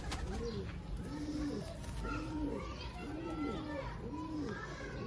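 Pigeons coo in a steady repeating rhythm, several soft rolling calls close by, over a constant background of children playing and voices talking.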